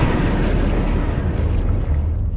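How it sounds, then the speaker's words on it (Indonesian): A missile launch explosion in an Ultraman Cosmos tokusatsu film: a loud, sustained roaring blast with deep rumble that holds steady for a couple of seconds, close and dominant. "Sepuluh detik menuju peluncuran misil"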